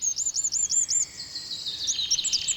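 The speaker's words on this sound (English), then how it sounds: "The woodland is alive with beautiful birdsong. But the wrens aren't singing for us to enjoy" Wrens sing in woodland, a rapid series of high, bright trilling phrases rising and falling, fairly close and clear against a quiet background.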